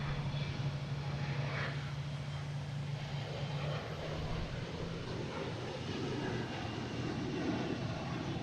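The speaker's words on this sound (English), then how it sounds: "next taking off, we have a Delta heading to Columbus, an E175" A Delta Embraer E175 jet takes off at Boston Logan airport, its engines a steady, fairly distant roar with a low tonal hum, continuous and even, with no talk over it.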